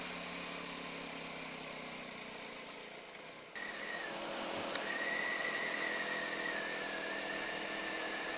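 A BSA Bantam motorcycle engine pulls steadily in third gear while riding, a continuous loud drone with wind rush that rises slightly in pitch after a brief dip partway through.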